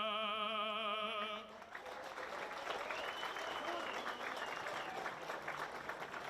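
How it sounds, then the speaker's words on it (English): A crowd at a New Year's Eve carnival in Burnie applauds after a performance, steady clapping heard at a distance that follows the end of sustained music. "Big round of applause, ladies and gentlemen"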